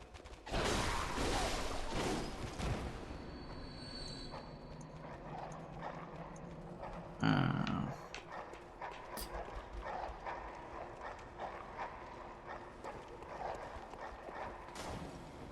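Dogs bark and growl in the Bloodborne video game amid eerie ambient game sounds and clattering hoof-like footfalls, with a louder burst partway through and quieter rustling afterward.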